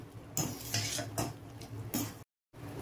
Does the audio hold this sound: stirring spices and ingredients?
yes